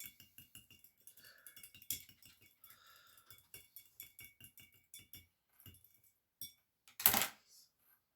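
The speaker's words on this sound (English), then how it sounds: "we're going to give it a stir again for about 10 seconds" A solution stirred in a glass container, heard as a quick run of light, regular glassy clinks and taps, faint and close, ending in one louder sharp clink, with no talking.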